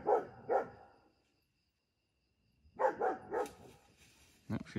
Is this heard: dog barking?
yes